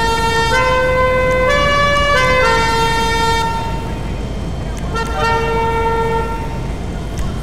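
Car horn on a modified Mustang GT in GTA 5, loud multi-tone blasts sounding in two bursts separated by a short gap, with no one speaking.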